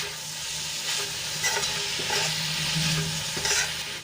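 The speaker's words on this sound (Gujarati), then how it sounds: "બધું સરસ રીતે મિક્સ કરી લેશું અને ગેસની આંચ આપણે ધીમી જ રાખીશું જેથી કરીને મસાલા આપણા ચોંટી ન જાય" Radish greens with spices are stirred in a pan over a low flame: a close, steady scraping of the spoon over a soft, continuous sizzle, with a few louder scrapes throughout.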